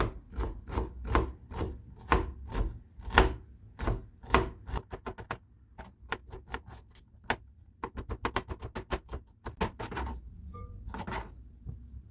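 A knife chopping parsley or onion on a board in quick bursts of sharp, close taps, some evenly spaced and some in fast runs, with short pauses between the bursts.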